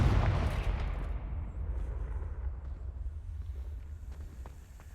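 A Confringo fire spell from Hogwarts Legacy bursts in a loud explosive blast at the start, then a rumbling roar trails off into a low, steady wash.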